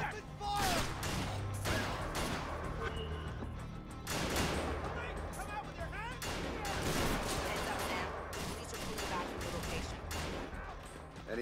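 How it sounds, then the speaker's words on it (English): Gunfire in the stealth game Splinter Cell: Conviction, loud repeated bursts of shots crashing through a dense battle mix, with shouted voices over the shooting. "Open fire!"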